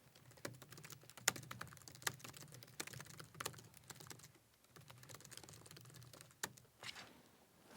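Text is typed on a computer keyboard in quick irregular bursts of close, crisp key clicks, with brief pauses between runs of strokes.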